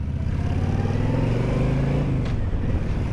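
A Honda VTX 1300 motorcycle engine rumbles nearby with a deep, steady, throbbing idle that swells slightly, heard alone without talk.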